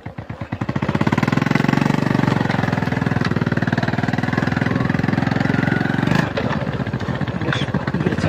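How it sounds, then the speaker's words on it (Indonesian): An old, battered motorcycle used for trips to the fields, its engine catching and then running in a loud, steady rapid chug close by, dipping briefly and carrying on at a rougher idle. "Saya pakai motor butut ya, motor yang sebenarnya hanya untuk ke ladang ya."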